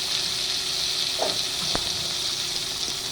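Chicken breast frying in a pan for a Filipino gulay dish, a steady close sizzle with brief stirring scrapes and a sharp tap partway through.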